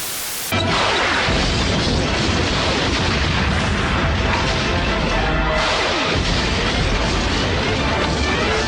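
Missile explosions in the 1994 Spider-Man animated series, a sustained barrage of loud, dense blasts and crashing rumbles that starts abruptly and keeps going in chained bursts with no talking.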